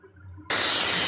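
A loud, steady hiss bursts in suddenly after a quiet moment and holds without a break, steam jetting from a pressure cooker whistle while cooking chickpea curry.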